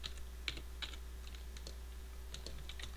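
Typing on a computer keyboard during a worked physics calculation: quick, irregular clusters of soft key clicks, fairly close but quiet, over a low steady hum.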